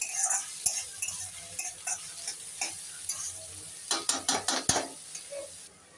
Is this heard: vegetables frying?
yes